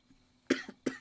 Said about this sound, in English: I have some kind of weird cough going on